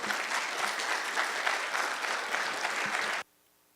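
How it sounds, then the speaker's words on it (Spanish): A university forum audience in Los Altos applauds a speaker on water availability, a steady, even wash of clapping from a crowd that stops abruptly, leaving near silence. "Por favor, un aplauso para él."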